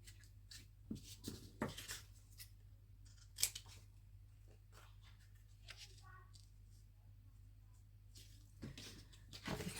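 Scissors snip through paper for a handmade birthday card with lilies, a series of close, crisp cuts in uneven bursts over a steady low hum, with soft handling rustles between the cuts.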